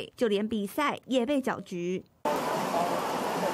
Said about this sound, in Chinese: 台北市全国田径公开赛下起磅礴大雨